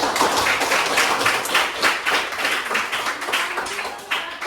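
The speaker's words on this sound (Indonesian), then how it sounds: "Oke, tepuk tangan buat kita." A small classroom group claps hands together in a quick, uneven burst, loud and close, fading slightly toward the end with no voices over it.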